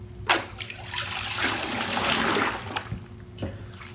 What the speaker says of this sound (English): we're just gonna clean up all the parts, soak them in here, and give them a good scrub